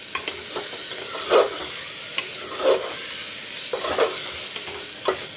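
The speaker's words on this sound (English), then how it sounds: "Let the masala fry. The masala is turning brown." Masala sizzles and fries steadily in a pan for mutton curry, with a constant hiss and a few louder stirring scrapes at intervals, close and alone.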